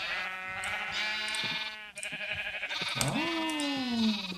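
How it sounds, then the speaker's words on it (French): Sheep in Minecraft bleat in a steady run of wavering, nasal calls that overlap and rise and fall in pitch, loud and close with no talk over them. "On va faire spawn des moutons"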